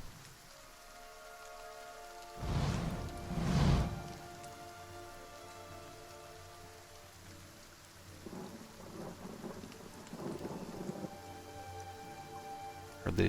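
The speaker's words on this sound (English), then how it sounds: "I think these rains would be a boon for the crops." Steady rainfall in the fantasy role-playing game Pillars of Eternity, with two loud rolls of thunder early on, then continuous rain patter and soft rumbles, with no talking.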